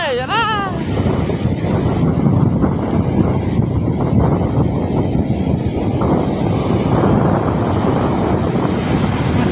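Big waves crash onto the shore during Typhoon Maring in Cagayan, a loud, continuous roar of surf mixed with strong wind buffeting the microphone; a brief voice sounds at the very start.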